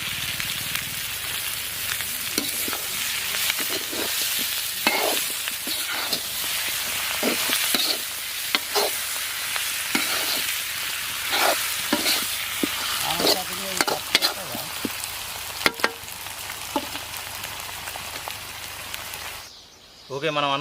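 Food deep frying in hot oil, with a continuous crackling sizzle and frequent sharp pops and bursts throughout, plus occasional stirring clatter, ending in a brief quieter moment.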